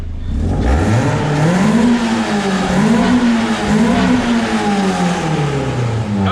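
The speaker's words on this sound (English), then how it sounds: "Here's the soundbite from the MR2." A Toyota MR2's engine revs hard and close, its pitch climbing and falling in repeated swells with a rough, throaty edge, loud and continuous throughout with no talking.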